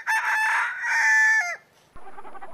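A rooster crows loudly and close by, two long rising calls in succession, followed by a short pause and softer clucking.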